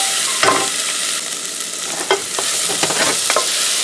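Salted onions for French onion soup are stirred in a hot pan, making a steady close sizzle with scattered scraping knocks from the spoon and no voices.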